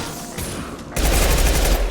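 Dense video-game gunfire in a sci-fi shooter, rapid overlapping shots that swell into a loud, continuous fusillade partway through, with no voices.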